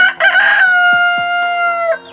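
A large native rooster crows once nearby, a loud drawn-out cock-a-doodle-doo that trails off over about two seconds, with a few soft clucks beneath it.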